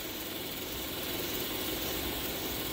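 A Westport drive shaft balancer turns a two-piece driveshaft slowly at 2 to 3 RPM, making a steady, even mechanical hum and whir with no breaks.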